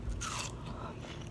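Close, crisp bites into fresh watermelon, a loud wet crunch followed by softer chewing, with no talk over it.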